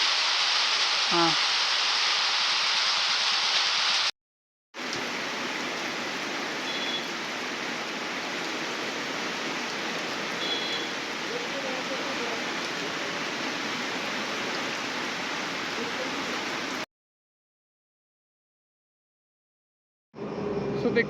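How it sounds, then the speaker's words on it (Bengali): Heavy monsoon rain pouring during a ride from Kolkata to Mayapur, a dense, loud, unbroken hiss that cuts out briefly twice before returning. "পুরো ঝমঝমিয়ে বৃষ্টি শুরু হয়ে গেছে।"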